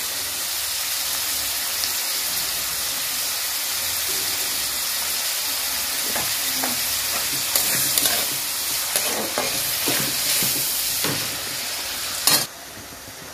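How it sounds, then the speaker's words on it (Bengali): Meat fries in a pan over medium-high heat with a constant hissing sizzle, and later a spoon stirs it with scattered scrapes and clicks before one sharp knock near the end. "এই মাংসটা একটুখানি নাড়া দেবো"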